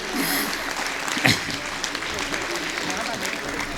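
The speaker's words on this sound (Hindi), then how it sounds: "भैया राम कुमार के सम्मान में भी एक बार जोरदार तालियां आप बजाएं।" Audience at a kavi sammelan applauding for Ram Kumar, a continuous wash of clapping at moderate distance with one sharper burst near the middle, some voices mixed in.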